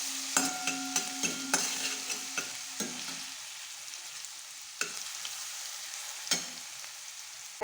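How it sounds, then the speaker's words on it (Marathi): Ginger, garlic and chili paste fries in hot oil in a kadhai, with a steady sizzle under repeated sharp scrapes of a spoon stirring. The scrapes come close together at first and grow sparser. "आता आलं, लसूण आणि मिरची तळली आहे."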